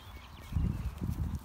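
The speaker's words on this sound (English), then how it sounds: "We've got a trail of horses." Horses walking along a trail, hooves thudding and clip-clopping in a low, uneven rhythm nearby.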